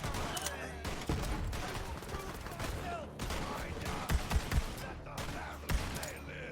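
Sniper pistol gunfire in the video game Borderlands: bursts of repeated shots over a busy, layered game soundscape, with several louder cracks standing out near the end.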